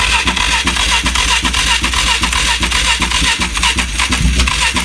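A Scrambler 500 motorcycle engine that has not been started in a long time cranks loudly and steadily on the starter, with rapid rhythmic chugging pulses throughout and no voices.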